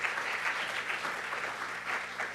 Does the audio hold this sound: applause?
yes